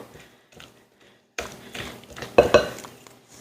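A spoon scrapes and clinks against a bowl while apple raisin muffin batter is stirred, quiet at first, then louder bursts of mixing.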